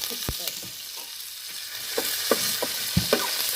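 Cumin seeds, mustard seeds and curry leaves fry in hot oil for a tadka, a steady close sizzle with scattered sharp pops and crackles and occasional spoon stirring.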